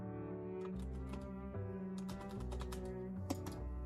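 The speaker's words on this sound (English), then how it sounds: "But I feel like people can actually hear my keyboard." Computer keyboard typing with quiet clicking keystrokes, faint beneath steady harmonic background music throughout.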